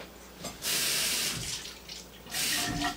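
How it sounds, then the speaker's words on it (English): Tap water running and splashing for soaking dried sea lettuce: close and loud, surging in two strong bursts with a gentler flow between them. "you take this and you soak it in water"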